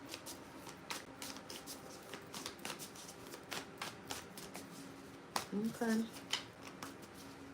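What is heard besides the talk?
shuffling tarot cards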